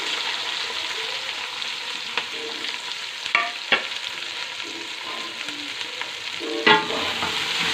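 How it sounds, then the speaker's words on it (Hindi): Half a kilo of onions frying in a pan, a continuous sizzle with occasional spatula scrapes and stirring knocks, no voices. "अब इसको अच्छे से हम फ्राई कर लेंगे"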